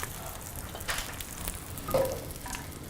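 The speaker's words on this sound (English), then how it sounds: "Simmer, cutting back to simmer." A pot of Japanese comfort food bubbles on the stove after being cut back to a simmer, a soft, close sizzling crackle with faint stirring and a couple of small clinks, no speech.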